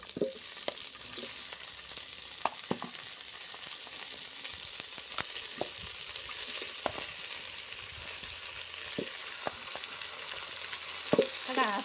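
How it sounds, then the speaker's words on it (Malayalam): Chicken sautés in hot oil in a pan with a continuous soft sizzle, broken by scattered clicks and scrapes of a spoon stirring, close and fairly quiet with no speech. "അതിന് മുമ്പേ ചിക്കൻ അതിനകത്ത് ഇട്ട് നന്നായിട്ട് വഴറ്റും"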